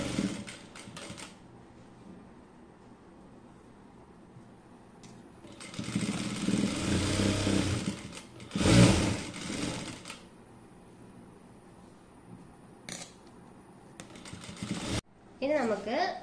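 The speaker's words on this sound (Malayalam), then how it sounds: "ഇനി ഒരു സ്റ്റിച്ചും കൂടി നമുക്ക് ഈ ഫ്രിൽസിന്റെ മുകളിലായിട്ട് ഇട്ട് കൊടുക്കാം" A sewing machine stitches a seam on the cloth of a six-piece skirt with frills, running in a few short bursts and one longer steady whir, with quiet pauses between and a voice speaking at times.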